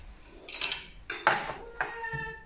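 An onion being cut for a mince dish gives three or four separate sharp knife strikes close by. Each hit has a brief metallic ring against a quiet background, and no one speaks.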